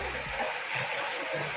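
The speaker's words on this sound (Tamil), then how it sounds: "அந்த வீடியோவில் வீடு கொஞ்சம் கொஞ்சமாக நகர்ந்து வெள்ளத்தில் விழுகிறது." Rushing flood water roars in a steady, loud, broadband wash as a house slides and collapses into the rain-swollen flood in Nellai.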